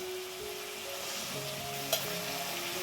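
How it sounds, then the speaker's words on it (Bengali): Spices sautéing in a pan while cooking paneer, a steady close sizzle throughout with a faint tonal hum and one brief clink. "মশলা কষানো হয়ে গেছে"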